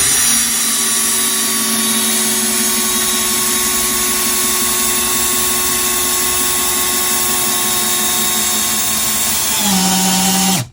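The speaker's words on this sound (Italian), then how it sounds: "proviamo ad avvitare le stesse viti con questo che dichiara 30 Nm" A TOPSHAK 30 Nm cordless drill driver spins a thin screw in, giving a continuous high motor whine for nearly ten seconds, then a brief pitch drop as it slows and stops.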